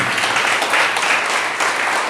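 Church congregation applauding during a worship service, loud sustained clapping from many people, dense and steady with little variation from start to finish.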